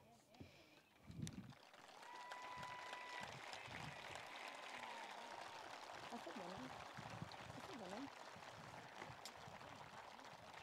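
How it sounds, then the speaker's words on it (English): A crowd at a 2021 high school graduation ceremony breaks into sustained, fairly distant applause, with scattered voices mixed in. "please stand for a round of applause"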